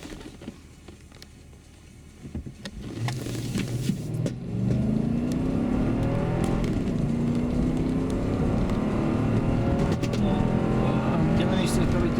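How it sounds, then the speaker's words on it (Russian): A Lexus LX570 SUV running on LPG revs up and accelerates steadily, the rising engine tone sustained and fairly loud, with a rushing drone underneath. "Сейчас как бы просмотрим непосредственно по ГБО разгон автомобиля."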